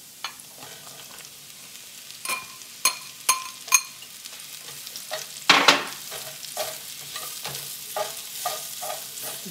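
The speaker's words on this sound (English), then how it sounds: "And I'm going to add 2 cups of sliced mushrooms." Sliced mushrooms sizzle quietly in a pan while a utensil stirs and scrapes them, giving several sharp clacks in a loose rhythm over a steady low fry, with no one talking.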